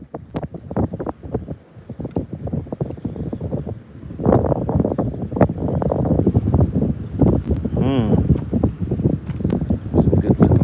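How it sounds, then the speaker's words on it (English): Wind gusts over choppy water around a bass fishing boat, heavy irregular buffeting on the microphone that thickens into a steady roar partway through, with water sloshing beneath. "the wind, it's a little choppy out here"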